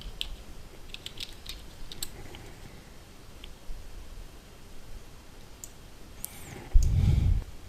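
Soft, steady keyboard typing in Notepad, a continuous patter of small key clicks under low background hiss, ending in a louder thump near the close.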